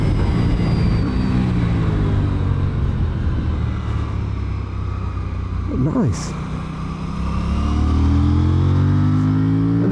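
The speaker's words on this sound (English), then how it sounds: "the engine is the same that you'll find in the RS, so it's the parallel twin 47 horsepower" An Aprilia Tuono 457 parallel-twin motorcycle engine, 47 horsepower, drones steadily with rising pitch as it accelerates, loud and continuous under wind noise, with a brief spoken word partway through.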